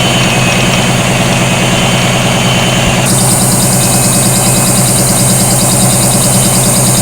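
A washing machine running on inverter power gives a steady low mechanical hum and rumble. Partway through, its pitch and texture shift to a higher, more rhythmic whirring that runs on continuously with no voices.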